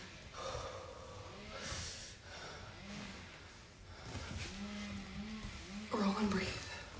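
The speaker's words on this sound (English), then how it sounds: "In through your nose, out through your mouth." Someone breathes in through the nose and out through the mouth while foam rolling, with steady audible inhales and exhales, snort-like nasal pulls and a few strained vocal sounds.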